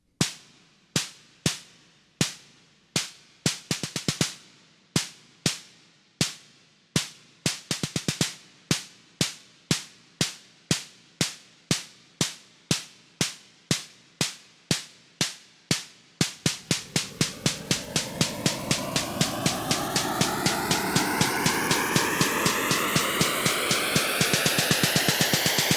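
A VPS Avenger synth riser preset starts as a run of sharp, evenly spaced percussive clicks. Effects then swell in as a dense rising sweep that grows louder toward the end.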